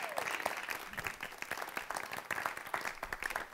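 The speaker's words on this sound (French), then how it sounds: "Mais on peut leur donner une bonne main d'applaudissement" Audience applause for two improv teams at the end of a French-language improv match: a continuous, fairly distant crowd of clapping hands, even and sustained, with no talking on top.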